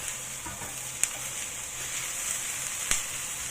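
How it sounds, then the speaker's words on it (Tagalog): Garlic frying in a pan as it is stirred, a continuous bright sizzle with two sharp clicks of a utensil against the pan, no talking. "So i-stir lang natin yan ng sandali bago natin haluin ulit."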